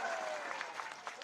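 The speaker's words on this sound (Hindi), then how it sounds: "तीनों मिला करके जोरदार ताली बजाएं" A crowd applauds at a political rally for a by-election in Datia, a faint, distant wash of clapping with a few louder bursts, and a voice is faintly audible beneath it.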